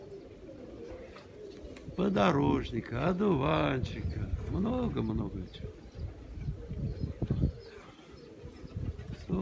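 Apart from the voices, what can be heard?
pigeons eating and cooing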